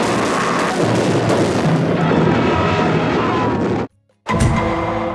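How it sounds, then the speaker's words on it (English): Heavy gunfire erupts in the 1978 film Dawn of the Dead, set in a shopping mall amid a zombie horde: loud, dense rounds and crashing blasts pile up nonstop, then cut to a brief silence before firing resumes. "They continue to fight us, firing several rounds into us."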